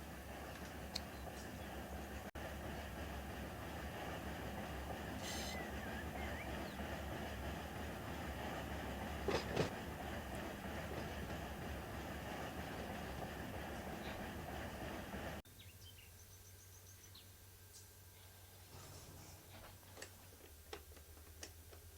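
Freight train rolling steadily in Run8 Train Simulator, with a BNSF and ATSF SD40 working a siding: a continuous loud low rumble with ticking rail clicks, dropping to a quieter idle partway through.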